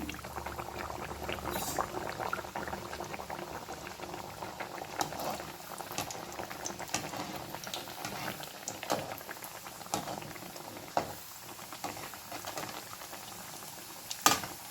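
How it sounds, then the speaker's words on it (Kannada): Mangalore-style banana buns frying in hot oil over a medium flame, a steady, faint bubbling sizzle with scattered pops and crackles running throughout. "ಈಗ ಬನ್ಸನ್ನು ನಿಧಾನವಾಗಿ ಎಣ್ಣೆ ಒಳಗೆ ಬಿಡ್ತೇನೆ"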